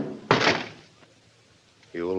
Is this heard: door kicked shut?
yes